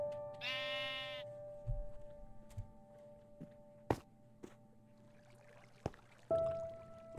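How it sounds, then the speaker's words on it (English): A sheep in the Minecraft video game gives one close, clear bleat near the start. Quiet game ambience with a few soft clicks and taps follows, and nobody speaks. "You've grown! You are now a mega sheep!"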